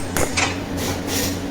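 Metallic clinks and taps as contact rings are worked off a car generator with two screwdrivers, a few short sharp knocks close by, no talk.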